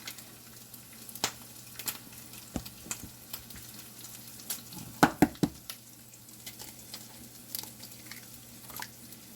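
Eggs frying in a pan crackle softly at a quiet level, with a cluster of sharper pops near the middle and scattered sizzling ticks throughout.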